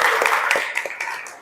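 A group of students at a school gathering claps hands in a quick, fairly regular burst of sharp slaps, close and moderately loud, for about a second and a half.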